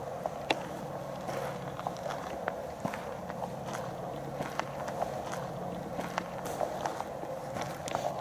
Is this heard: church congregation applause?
no